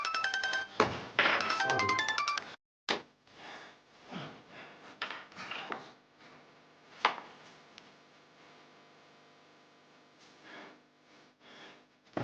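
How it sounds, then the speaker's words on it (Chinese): A phone ringtone plays for an incoming call, a bright melodic burst for the first couple of seconds. Scattered thumps and soft rustling follow, with no speech. "这时候他妈谁来电话？"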